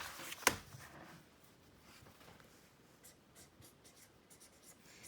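A pen or pencil scratches briefly on paper while a math solution is written out, a sharp rustle or tap at the start followed by soft, intermittent scratchy strokes, quiet and close.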